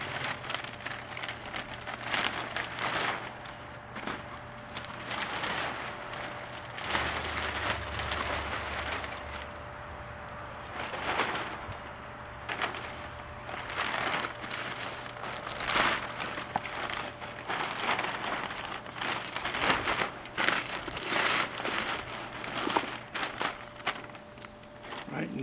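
A plastic tarp pulled over pepper plants outdoors ahead of near-freezing cold, giving repeated crinkling and rustling with footsteps, fairly quiet and continuous throughout.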